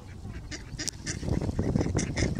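Ducks and geese call on a cool, windy Sunday afternoon, giving a cluster of quacks and honks that grows busier toward the end over a windy background.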